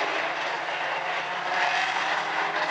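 Outlaw Compact race cars pacing to the start line off turn four at South Sound Speedway, a steady broadband engine drone from a pack of cars rolling at moderate distance, continuous with no talk.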